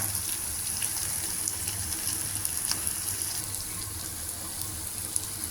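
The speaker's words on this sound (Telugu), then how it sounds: "కూర మగ్గుతుంది బాగాను మనం మధ్య మధ్యలో ఇలా కలుపుకుంటూ ఉండాలి మాడిపోకుండాను" Capsicum and potato curry cooking in oil in a partly covered pan, a steady soft hiss and crackle of simmering and sizzling, even and continuous with no voices.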